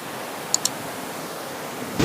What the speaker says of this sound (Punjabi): ਦੇਖੋ ਵੀ ਇਧਰੋਂ ਪਾਣੀ ਆ ਰਿਹਾ ਉੱਪਰੋਂ